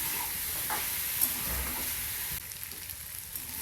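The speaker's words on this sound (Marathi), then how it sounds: "परतून घेऊया." Soaked bajra vadi stir-fry in a pan with salt and red chutney, a faint, even sizzle with a couple of soft stirring scrapes, quieter after the first few seconds, with nobody talking.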